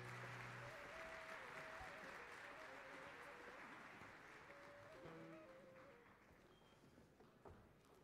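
Audience applause fills a concert hall after a Turkish folk music youth choir's performance, a steady, dense wash of clapping that slowly fades toward the end, with faint tones and stray sounds beneath it.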